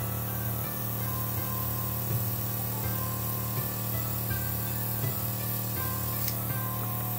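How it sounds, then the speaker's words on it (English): Luminess Air stylus airbrush spraying color onto paper, giving a steady, continuous hiss under a low mechanical hum from the compressor, close and even throughout. "And then we're going to spray the paper."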